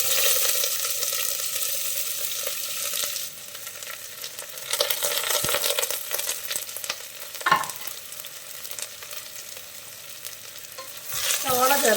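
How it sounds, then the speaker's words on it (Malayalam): Chopped onions sauté in hot oil for a mutton curry, a loud, continuous close sizzle with occasional scraping stirs and a few brief clinks, no voices. "അപ്പോൾ എണ്ണ നന്നായിട്ട് ചൂടായി കഴിഞ്ഞാൽ നമുക്ക് അരിഞ്ഞു വെച്ചിട്ടുള്ള സവാള ചേർത്ത് കൊടുക്കാം."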